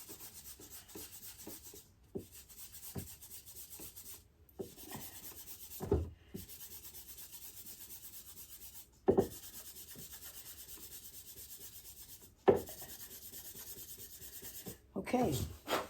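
Soft, steady rubbing strokes of abrasive on metal guitar frets as they are smoothed at a workbench, repeated and fairly quiet, with a few sharper knocks between passes.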